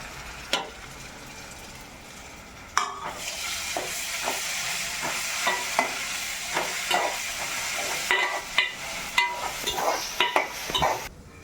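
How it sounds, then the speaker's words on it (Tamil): Ginger garlic paste hits sautéed onions in a hot pan with a steady, hissing sizzle. Repeated sharp clicks and scrapes from the stirring spoon are heard close up throughout. "வெங்காயம் நல்லா வதங்கிடுச்சுல? வதங்கிடுச்சு. இப்போ என்ன செய்ய போகிற? இஞ்சி பூண்டு பேஸ்ட் சேர்க்க போகிறேன்"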